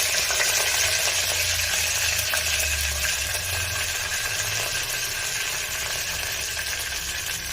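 Curry leaves fry in hot oil for poori masala, giving a loud, steady, close hiss of sizzling that fills the whole stretch, with no talking.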